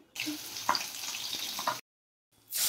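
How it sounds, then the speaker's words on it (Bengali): Potato pieces hit hot oil in a pan, a steady bright sizzle lasting under two seconds, then a brief silence before the frying hiss swells again, loud and close. "এবার ওই তেলের মধ্যেই আমি তুলে দিলাম আলুর টুকরো।"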